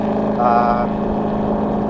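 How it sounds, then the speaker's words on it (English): A 2020 Ford GT500 with a Lethal track exhaust and resonator delete in track mode, droning steadily up close with a brief rising blip around a downshift midway, and a voice talking over it. "I do want to show you the aggressive downshifts in track mode"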